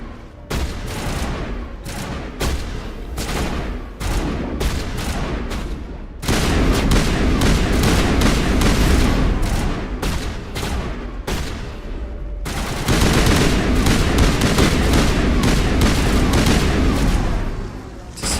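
Rapid bursts of gunfire from the video game Mass Effect, dense volleys and automatic fire with booming impacts, loud and continuous in long stretches separated by brief gaps.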